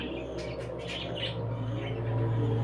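A pet bird suffering from egg binding chirps in short, quick bursts over a steady low hum, fairly close and moderately loud.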